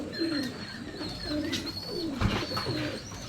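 Guldar pigeons in a cage coo steadily in low, rolling phrases that repeat close by, with faint higher chirps and a bright tone running in the background, continuous throughout.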